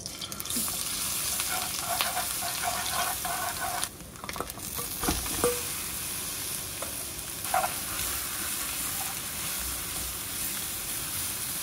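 Bujigaengi greens sizzle loudly and continuously in perilla oil in a hot pan, with occasional scraping and clinking as they are stirred.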